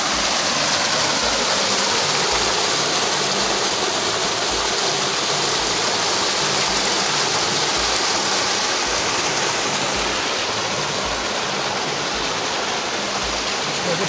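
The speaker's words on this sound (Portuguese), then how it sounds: "Agora estamos aqui com a cascata" The Cascata das Furnas waterfall near Vila Nova de Milfontes, Portugal, a steady broadband rush of falling water, loud and close, unbroken throughout with no voices.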